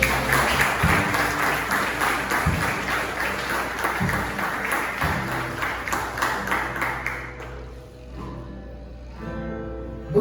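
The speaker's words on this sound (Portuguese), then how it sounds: "Você pode aplaudir a Jesus?" A church congregation applauds Jesus with a sustained burst of clapping over a low hum, fading after about eight seconds as it gives way to quieter sounds.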